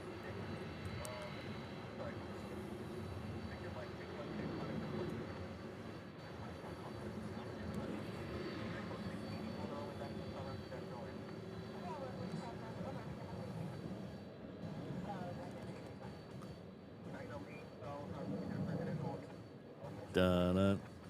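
A military C-40 jet at Honolulu airport, heading out on runway 8 left, gives a sustained, fairly distant roar while people talk nearby.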